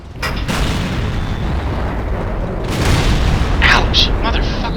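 A tank cannon shell slams into the player's tank in the World of Tanks video game: heavy booming impacts and crackling blasts over steady battle rumble, with a voice speaking over them.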